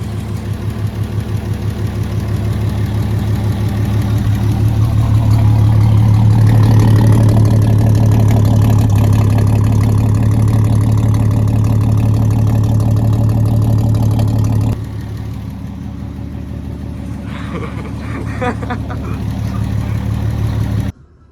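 A 1920s Talbot Darracq pickup truck engine idles close by with a deep, steady low rumble and even mechanical beat, continuing throughout with a slight drop in level partway, under occasional voices.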